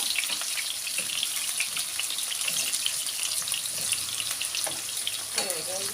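Steady, dense sizzle of food frying in a pan, continuous and fairly close, with faint clinks of stirring near the end.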